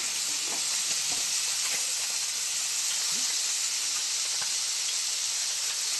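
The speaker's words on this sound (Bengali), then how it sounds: "ভাজাটা আমাদের একটু ভাজা ভাজা করে নেব।" Steady hissing sizzle of food frying in a hot pan, continuous and close, with faint scraping now and then.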